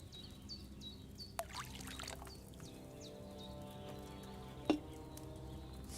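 Liquid pours into a cauldron in the video game Kingdom Come: Deliverance II, a quiet steady splash of wine with birdsong and a few soft knocks in the background.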